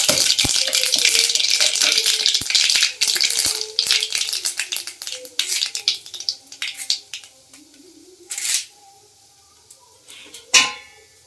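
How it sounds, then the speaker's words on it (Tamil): Mustard seeds hit hot oil in a pan and crackle loudly and densely at first, with sharp rapid pops that thin out to scattered sputters over about ten seconds. No talk is heard. "எண்ணெய்க்கு அடுத்து கடுகு போடணும்."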